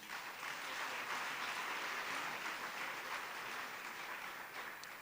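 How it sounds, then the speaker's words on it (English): A college ceremony audience applauds steadily, an even wash of clapping hands from many people that holds at a moderate level for the whole stretch. "So I think she deserves a round of applause."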